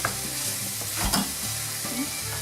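Mushrooms and pepper are mixed into softened, caramelised vegetables in a hot pan, giving a close, steady sizzle with a swell of stirring scrapes midway and no talking.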